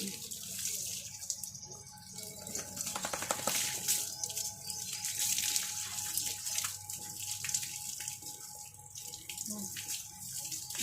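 Water runs and splashes steadily while a small child is bathed with shampoo, a continuous pouring hiss with occasional drips and knocks close by.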